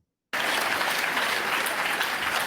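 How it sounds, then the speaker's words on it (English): A crowd bursts into sustained applause during a Reform UK political speech, starting abruptly after silence and continuing as a dense, even roar of clapping. "Notice I got the biggest round of applause of anything she said so far"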